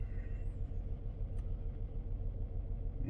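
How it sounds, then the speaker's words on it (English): Car engine with a misfire on cylinder 2 from a burnt valve, idling with a steady low rumble and uneven pulsing throughout, close by with no talk. "It's misfiring pretty good, and then it'll go away once it gets warmed up."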